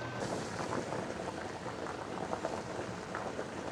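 Spaghetti boils in a pot of water, a dense, steady bubbling and rolling churn close by, continuous throughout with no talking.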